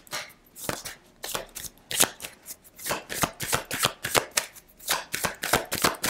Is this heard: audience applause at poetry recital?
no